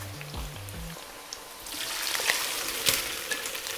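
Pork ribs for sweet and sour ribs fry in a pan, a hissing sizzle that builds louder in the second half, with low tonal sounds at the start and no speech.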